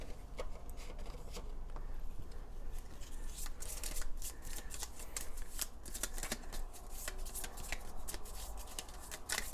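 A deck of cards for the board game Oath is shuffled by hand in a steady run of crisp riffles and flicks, close and fairly quiet, with no talking.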